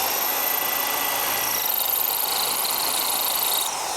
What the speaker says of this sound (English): I've drilled all the holes with the chain drilling